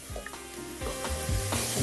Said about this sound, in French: Alors, on va bien mélanger, on va faire suer tout cela.